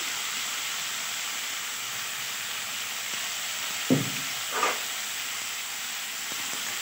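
Potatoes frying in a pan with salt for a vegetarian soybean-potato posto dish, a steady faint sizzle and hiss broken by a couple of soft stirring clinks.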